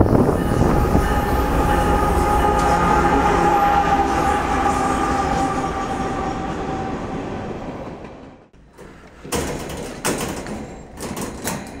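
A train in Indiana rumbles steadily and loudly for several seconds, then fades out, followed by scattered rattling and clanking sounds.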